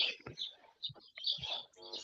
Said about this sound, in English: You can hear nothing but the birds.